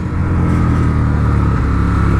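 A 2025 Indian Scout motorcycle cruising on a highway: a loud, steady low engine drone blended with rushing wind noise, continuous and close, with no talking.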